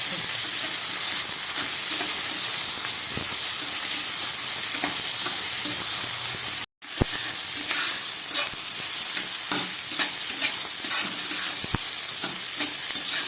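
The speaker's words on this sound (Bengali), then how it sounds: "এগুলোকে আমি খুব ভালো করে একটু ভেজে নিচ্ছি।" Cauliflower, potato, tomato, onion and capsicum fry in a pan, giving a steady loud sizzle with occasional scraping stir strokes and one brief dropout midway. No one speaks.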